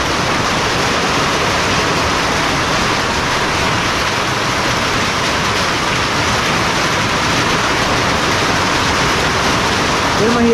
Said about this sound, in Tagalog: buhos mo na yan para yung mga mais namin makainom